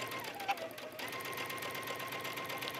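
A home sewing machine runs steadily through a straight stitch, a continuous close whirring hum with a faint rhythmic needle chatter throughout, no voices over it.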